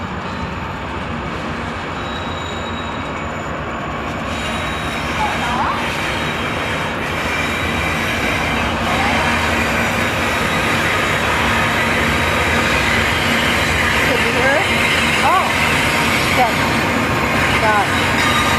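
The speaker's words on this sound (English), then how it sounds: "Got hoppers and tankers and the freight train." A mixed freight train of hoppers, tankers and gondolas pulled by two engines in Kansas City rolls past in a steady, continuous rumble, with faint wheel squeals rising now and then over the roar.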